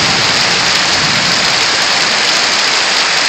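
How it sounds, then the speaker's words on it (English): Heavy rain in a storm at San Marcos pours down as a dense, constant hiss, loud and unbroken throughout, with no voices. "It's been raining for days."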